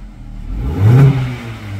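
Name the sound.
car engine revving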